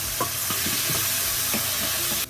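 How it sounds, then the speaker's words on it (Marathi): Ground masala with ginger, for a mixed dal curry, sautéing in a pan: a steady loud sizzle with soft scraping stirs at regular intervals, no talking. "मसाला छान परतून घ्यायचा"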